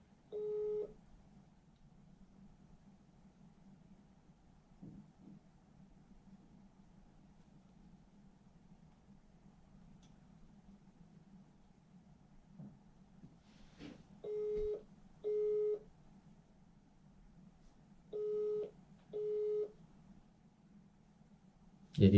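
A telephone busy signal sounds down a phone line, short even tone bursts in pairs separated by long quiet gaps over a faint line hiss, fairly quiet and with no talking.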